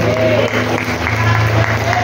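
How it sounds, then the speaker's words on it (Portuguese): A church congregation at a family worship service claps together in a steady burst of applause, with an organ or keyboard tone held underneath and voices mingling in the crowd. "Pode aplaudir o nome do Senhor."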